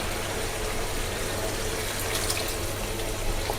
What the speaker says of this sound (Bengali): ম্যারিনেশন করে রাখা যে বাটি ধোয়া জলটা দিয়ে দিচ্ছি।